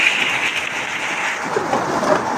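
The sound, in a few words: thunderstorm with heavy rain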